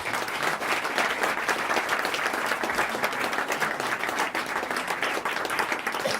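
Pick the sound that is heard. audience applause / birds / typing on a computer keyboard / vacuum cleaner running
audience applause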